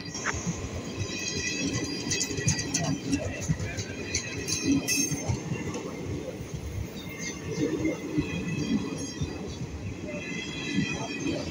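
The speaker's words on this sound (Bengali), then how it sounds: "সেই দুর্গাপুর দিয়ে এখন এই ট্রেনটা যাচ্ছে" Diverted passenger train number 03184 rolling past on the line between Krishnanagar and Diganagar, a steady loud rumble of wheels and carriages with faint clinks, lasting throughout with voices talking underneath.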